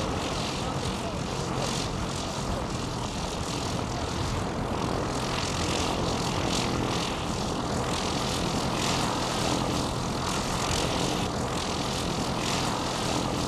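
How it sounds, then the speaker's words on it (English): An 8-seater 1934 de Havilland Dragon biplane flies pleasure flights from a sand landing strip on Birkdale Beach. Its engine gives a steady, loud, unbroken roar that fills the whole stretch. "An 8-seater de Havilland Dragon biplane of 1934 briefly ran pleasure flights from here"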